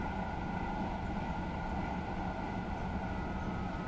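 An LNER Azuma train produces a steady, even rumble with a constant tonal hum, heard close and alone without any voices.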